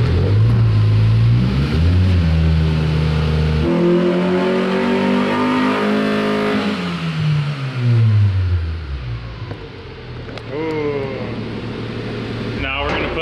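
Honda Civic EG engine with a flex-fuel conversion revving hard on a dyno, pitch climbing and falling through sustained loud pulls with a brief drop and re-rev near the end, voices talking over it.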